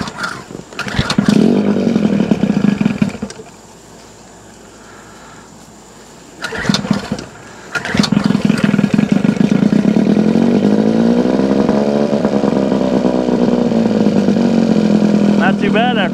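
An outboard kicker motor on a 1976 Starcraft boat cranks loudly, catches briefly, cranks again and then fires into a steady, rough idle that runs on, close up and loud.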